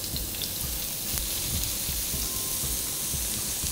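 Sliced onions sauté in a hot pan for tuna spaghetti with white sauce, giving a continuous, fairly quiet sizzle with light crackles and occasional stirring scrapes.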